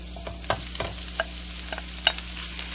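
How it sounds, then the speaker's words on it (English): Meat going into a pan of lightly browned onions for tacos, with a few scattered stirs and scrapes and soft clicks over a quiet background sizzle, close and fairly faint. "I'm ready to add the meat."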